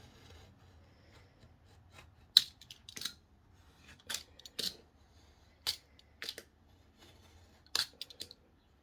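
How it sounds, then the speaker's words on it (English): Scissors snip through the hard glued edge of a thrifted paper page in a quiet room, a handful of short crisp cuts spaced a second or so apart. "the first thing I need to do is trim off that hard edge where the glue is"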